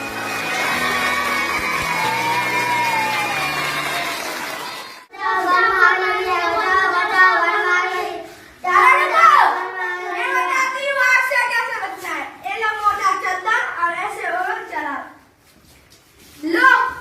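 Children shouting and calling out together in a classroom during a fire-safety drill, loud bursts of excited young voices in waves, with a brief pause and a final outburst.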